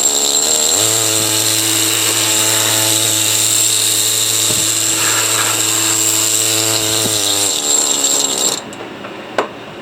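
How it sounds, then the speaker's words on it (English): An air scribe hisses and buzzes steadily as it blows dust off a block of echinoid fossils, a loud pneumatic whine with a low hum that runs continuously before cutting off, followed by a short click. "take my air scribe and just de-dust it"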